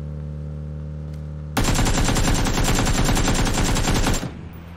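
Sustained automatic gunfire in PUBG erupts after a quiet stretch, a dense rapid burst of loud shots lasting several seconds before cutting off, with no talking.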